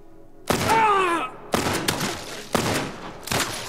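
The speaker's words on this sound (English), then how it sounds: "Damn it. I have one bullet. I miss so many shots." Gunshots in The Last of Us Part 1: four separate loud reports spaced about a second apart, each ringing briefly, the first overlapped by a groaning voice-like cry.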